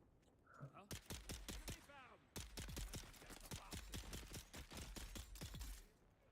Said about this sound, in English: I think I hear gunshots, guys.